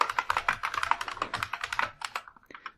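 Fast, close clicking of keys on a computer keyboard as a password is typed, a quick irregular run of taps that slows and thins out near the end.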